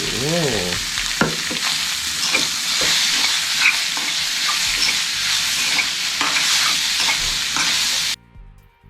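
Fish meat stir-fries in a hot pan with a loud, continuous sizzle and repeated stirring scrapes close by, then it cuts off abruptly near the end.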